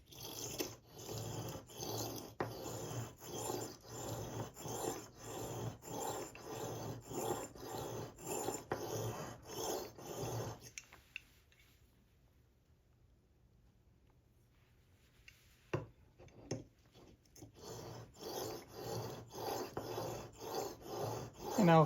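A blade held in a Mohoo honing guide is pushed back and forth on a sharpening stone in steady rasping strokes, stopping for a few quiet seconds midway, then resuming the same rhythmic scrape.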